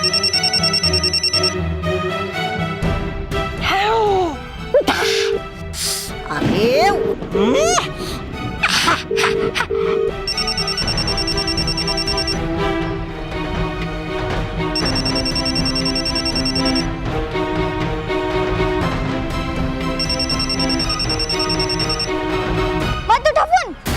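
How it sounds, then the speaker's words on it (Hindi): A phone's electronic ringtone chirps in repeated bursts, about four clear rings, amid a busy mix of dramatic music, whooshes and sound effects, with a brief spoken exclamation. "अरे ये किसका फोन आया?"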